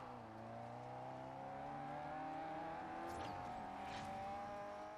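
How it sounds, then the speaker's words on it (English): A car slides and skids across mixed asphalt and off-road surfaces in the racing game Forza Horizon, its engine droning steadily and loudly with tire noise and brief scrapes throughout. "We are skidding all over the place"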